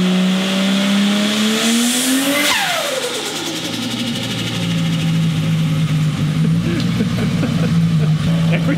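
Turbocharged Holden VL car engine revving with a custom dose pipe, loud and close, the pitch rising then dropping sharply with turbo flutter, followed by a steady idle-like drone and further fluttering chatter.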